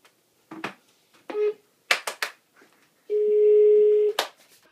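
Telephone keypad tones as a call is dialed: a few short beeps, then a steady held tone about a second long, close and clear, with no talking.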